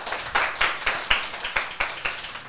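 Scattered applause for a singer, made of a handful of loose, uneven claps from a small group that fades out after a couple of seconds.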